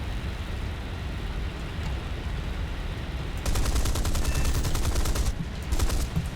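British Hispano cannons fire in War Thunder aboard a Tier II aircraft, rapid bursts of heavy automatic fire in two stretches over a steady engine drone, loud and close.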